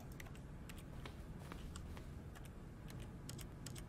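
Quiet, rapid clicking of a computer keyboard being typed on in The Stanley Parable, steady irregular keystrokes over a low background hum.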